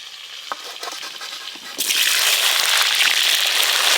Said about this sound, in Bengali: এবার কেটে ধুয়ে রাখা আলুগুলো ভেজে নেব